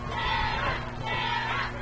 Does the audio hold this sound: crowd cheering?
yes